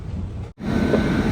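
A passenger train rolls into Shoranur Junction station in Kerala, a steady broadband rumble of wheels and carriages heard from inside a sleeper-class coach, broken by a brief near-silent gap before the dense rolling noise resumes and continues.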